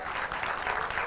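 An audience applauds at a political speech mourning Raila Odinga in Kenya, steady dense clapping filling the whole short stretch at moderate loudness, with no talk over it.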